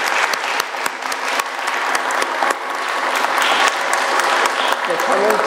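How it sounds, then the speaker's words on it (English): Audience at an economic forum in Birmingham applauding the Federal Reserve Bank president, loud sustained clapping from a full room with a few sharp individual claps standing out. "Raphael Bostic, a round of applause"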